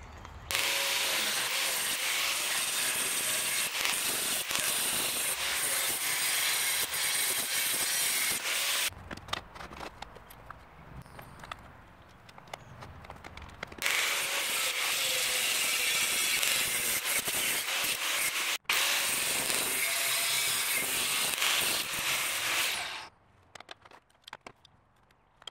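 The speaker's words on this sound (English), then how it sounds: "Now the first thing I need to do is cut the steel to the size I need." Steel is cut to size for a rectangular lost-wax casting flask: long stretches of loud, harsh, abrasive grinding noise broken by a quieter pause in the middle, ending with a short break and fainter handling sounds.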